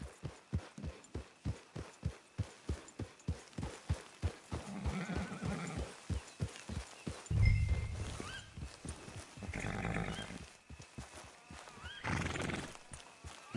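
Horse in a Western-themed video game, trotting with steady clip-clop hoofbeats, then whinnying and snorting in several loud neighs between the hoof sounds, close and clear with no talking.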